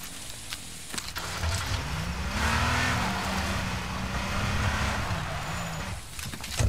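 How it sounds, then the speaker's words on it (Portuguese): A motorcycle in the H1Z1 battle royale game approaches with a continuous engine drone whose pitch rises and falls, holding fairly steady and loud throughout with no talk. "tô escutando motinha. E tá vindo na minha direção,"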